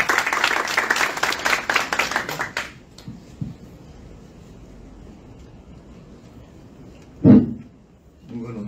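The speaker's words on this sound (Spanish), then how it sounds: "un voto de aplauso para el doctor Abraham Ramírez Lituma" Audience applause at a Latin American business summit, a dense burst of clapping from a large crowd lasting about two and a half seconds before fading into quiet room tone, with a brief thump later.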